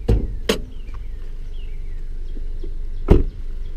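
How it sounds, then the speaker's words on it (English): The hood release of a 2018 Honda CR-V being pulled and the hood popping open: a few sharp, close mechanical clunks and thuds, separated by a quieter stretch with faint outdoor ambience and distant birdsong. "Pop back here, we'll pop open the hood."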